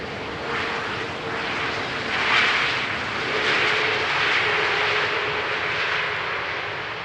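Airbus A320neo airliner arriving at Amsterdam Schiphol runway 18R, a steady broad jet roar that swells and eases slightly as it passes, moderately distant, alone without talk.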